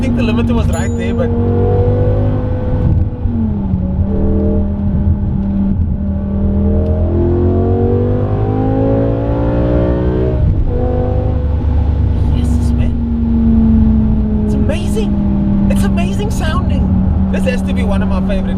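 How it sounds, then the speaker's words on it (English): A BMW 850i fitted with a V10 engine revs hard toward an 8,500 RPM limiter, a loud sustained howl climbing and falling in pitch with crackles and pops on overrun, close and dominant throughout. "The V10 BMW engine."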